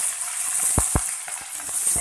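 Fenugreek seeds and cumin fry in oil for a kulambu as a brief, steady sizzle with a few sharp crackles and pops near the middle.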